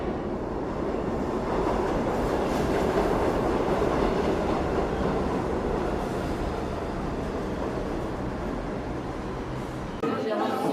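In a Bengali cartoon, a train runs along its tracks as a steady, loud rumble with a rolling rhythmic clatter. The sound continues throughout and cuts off abruptly near the end.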